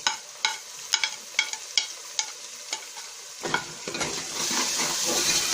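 Garlic paste frying in a pan with browned onions, a hissing sizzle punctuated by regular spoon strikes and stirring scrapes that give way to a louder, continuous fry.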